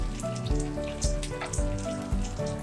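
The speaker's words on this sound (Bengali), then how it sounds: "এরকম করে চারিদিককে ভেজে নিতে হবে।" Oil sizzles and crackles steadily in a pan as prawn-stuffed pointed gourds fry, with occasional soft knocks and pops over the continuous frying hiss.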